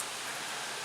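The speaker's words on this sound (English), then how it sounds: "Rain, rain, it's raining man." Steady rain pours down outdoors ahead of a coming thunderstorm, a dense, even hiss with no breaks and no voices.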